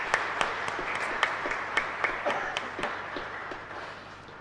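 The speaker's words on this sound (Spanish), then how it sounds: "creo que merece un fuerte aplauso en agradecimiento al Padre" A congregation applauds at Mass in the Capilla Caacupemí chapel, a thin scattering of claps at moderate distance that tapers toward the end, with no talk.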